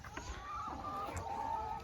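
Crowded laying hens on a small Thai farm cluck and murmur in a dense, continuous chorus, a steady close flock noise with no clear voice.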